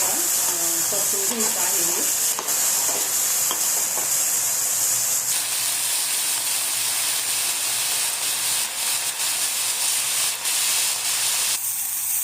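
Vegetable filling for paneer rolls sautéing in a pan, with a steady sizzling hiss and occasional stirring scrapes, while a voice talks briefly near the start.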